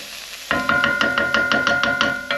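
Spring onions or shallots sauté in a pan for lasagna, a close, steady sizzle with regular scraping pulses as they are stirred.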